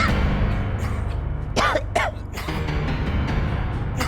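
A few short, harsh coughs in quick succession cut through a low background hum, close and fairly loud.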